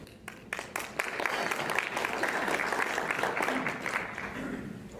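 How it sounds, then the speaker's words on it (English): An audience at a training session gives a round of applause, a moderately loud burst of many hands clapping that builds after a few scattered claps and holds steady, with some voices mixed in. "Certainly we don't need applause."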